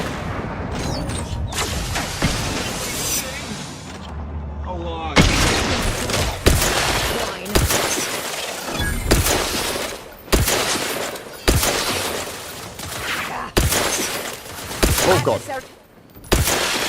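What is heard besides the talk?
gunfire in the video game Outer Worlds 2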